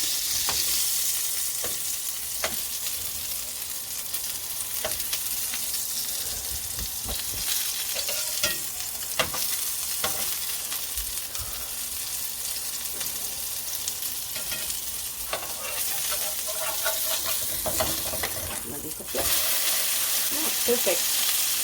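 Beef burgers fry in a pan, a loud, continuous close sizzle with intermittent scrapes and clinks from a utensil moving them around.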